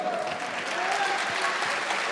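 A dense audience bursts into sustained applause, many hands clapping in a full, even roar that holds steady throughout without a break.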